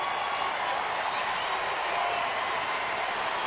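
A crowd of more than 36,000 at a Phillies home game against the Cubs in 2013 cheers and applauds in a dense, steady roar of clapping and shouting that fills the stadium.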